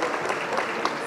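An award-night audience applauds steadily but at a moderate level, a short, even burst of clapping with no speech over it.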